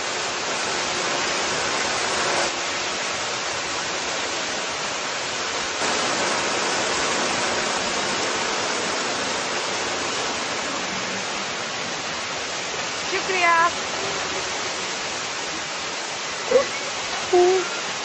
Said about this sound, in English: On this riverbank, the noise of traffic has faded away, and I can hear nothing but the peaceful sound of rushing water.